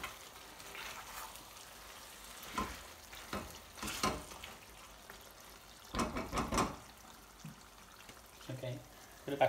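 Spices for a Bangladeshi lamb shatkora curry cook in a pan, giving soft intermittent sizzling and stirring scrapes at close range with a few louder clatters.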